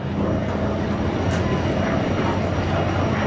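A P-47 Thunderbolt, a piston fighter with a turbo supercharger mounted in the tail, flies over at an airshow, giving a continuous loud engine drone with steady tonal hum and no breaks.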